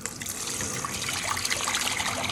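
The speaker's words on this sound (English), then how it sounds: "turn on the hot water, Walton." Hot water runs steadily from a newly installed kitchen sink faucet, a continuous hissing, splashing stream close by with no break throughout.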